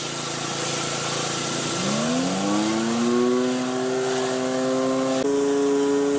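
Troybilt pressure washer engine running with a surface cleaner attachment, a steady close drone whose pitch climbs and settles as it comes up to speed, with a sharp shift near the end.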